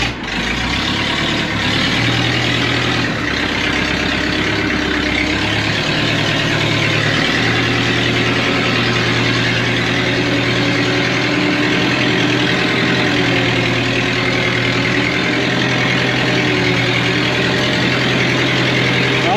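A backhoe loader's diesel engine runs steadily as the machine drives forward, a loud, constant low rumble with a slight change in pitch early on, with no talking over it.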